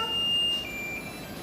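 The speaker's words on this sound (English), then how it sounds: "Timer off." A kitchen timer gives a steady electronic tone that shifts pitch once, faint against background room noise in a home kitchen during pear canning.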